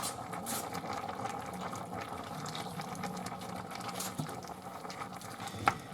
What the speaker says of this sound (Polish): I teraz to tak będziemy gotować mniej więcej, aż ta dynia będzie miękka.